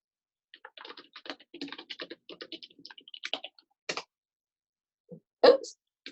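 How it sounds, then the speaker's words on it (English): Typing on a computer keyboard: an irregular run of quick, light key taps close by, then a pause and a couple of louder isolated clicks or knocks near the end. "Let me type it in here."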